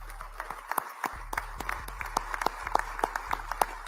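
Sparse clapping at a press event welcoming a basketball coach: scattered individual claps ring out irregularly over a low room hum, fairly close and modest in volume, with no voices.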